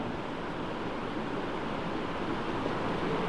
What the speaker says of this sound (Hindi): अगर इसके ऊपर मैं पानी डाल दूं,